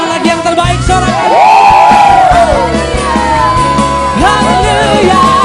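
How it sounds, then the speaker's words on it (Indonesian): A church congregation at an online Sunday school service cheers and whoops loudly together, a close, dense crowd sound with rising shouts that swell and fall over several seconds. "Tepuk tangan lagi yang terbaik, sorakan."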